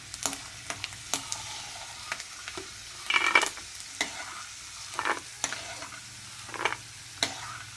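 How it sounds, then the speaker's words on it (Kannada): Peanuts fry in hot oil in a pan for mango chitranna, a soft steady sizzle broken by repeated scraping stirs of a spoon against the pan. "ಕಳೆಕಾಯಿ ಬೀಜ ಹಾಕೊಳ್ತಾ ಇದ್ದೀನಿ ಇದನ್ನು ಫ್ರೈ ಮಾಡ್ಕೊಳ್ಳೋಣ"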